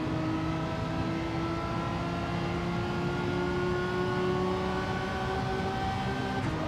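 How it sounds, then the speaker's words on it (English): Race car engine in Gran Turismo 7 held against the rev limiter, a steady, loud, buzzing high-rpm drone with stacked harmonics that stays flat and unbroken throughout, with no talking. "got the gear wrong there, bouncing off the rev limiter"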